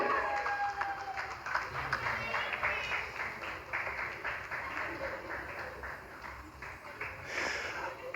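An audience at an award ceremony claps in a fairly faint, continuous patter of applause, with a voice speaking over it.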